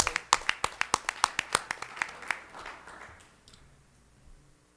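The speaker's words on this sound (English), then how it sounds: "One more round of applause as they leave" A few people clap at a school governing board meeting, a short run of sharp distinct handclaps close by that slows and fades out within about three seconds, followed by quiet room tone.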